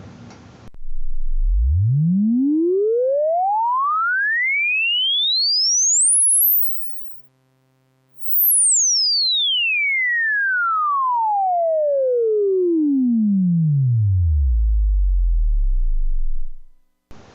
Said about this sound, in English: you can also hear that the sweep range is quite a bit bigger on the Korg.